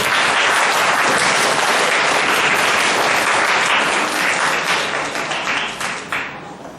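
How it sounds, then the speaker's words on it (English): Loud applause from a school audience welcoming a Form 1 class at a reader's theatre competition, full dense clapping from many hands that holds steady before thinning and tapering off toward the end. "Let's give them a big applause"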